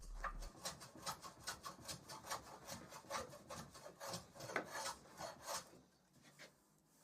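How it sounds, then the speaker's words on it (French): Repeated rhythmic rasping strokes of a hand plane across pallet wood, steady back-and-forth scraping close by, gradually slowing and fading at the end. "j'ai utilisé un rabot à main pour m'assurer que les pièces étaient bien alignées"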